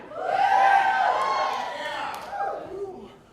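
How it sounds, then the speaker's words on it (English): Loud, lively crowd cheering and whooping inside the Impact Arena at a wrestling show, a sustained roar that swells early and slowly ebbs, with voices shouting throughout. "We got a hot crowd in the Impact Arena tonight."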